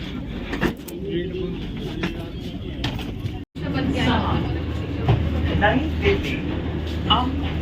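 A Vande Bharat Express train runs with a steady low rumble and broadband rolling noise, fairly loud and continuous apart from a brief dropout, while people talk over it.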